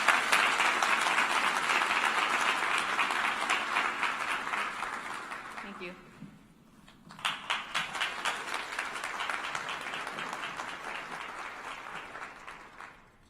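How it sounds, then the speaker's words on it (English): Class of 2020 graduates applaud at a College of Education and College of Science commencement ceremony, with sustained dense clapping that dips briefly midway, then swells again, and a voice speaks over it. "Give yourselves a round of applause."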